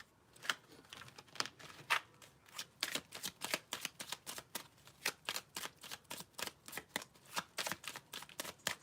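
Tarot cards are shuffled close up in quick, regular bursts of riffling, a crisp papery flutter that repeats steadily throughout at a soft level with no speech.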